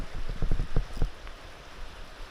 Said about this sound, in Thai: ฝนแรงมากครับ